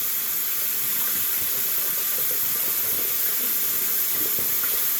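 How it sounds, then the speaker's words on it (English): A kitchen tap runs steadily into a sink as it fills, giving a constant close hiss and wash of water for the whole stretch, with no talk over it. "let me get this sink filled up"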